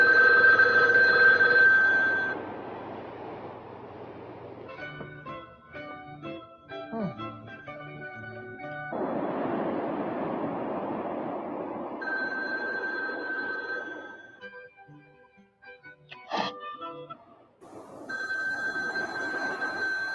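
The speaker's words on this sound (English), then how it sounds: "Rhonda has to make an urgent phone call" Telephone ringing repeatedly with an incoming call, bright electronic rings in several bursts alternating with beeping tones, fairly loud and with no talk over it.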